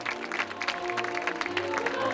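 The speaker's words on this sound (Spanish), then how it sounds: "Fuerte aplauso." Applause at a festival ceremony for the Belleas, a hall crowd clapping fairly faintly, with a low hum of voices and background music underneath.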